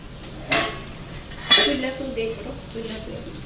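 While a potato and pointed gourd curry cooks, two sharp metallic knocks of a utensil against a pot are followed by lighter clinks and scraping over a soft sizzle.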